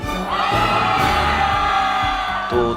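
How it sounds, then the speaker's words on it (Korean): A crowd cheers and whoops in a dense, loud roar of voices, with shouts rising and falling over a steady wash of noise throughout. "어디선가 환호 소리가 들린 듯한 환청이 들린 것 같은 느낌적인 느낌이 들지만"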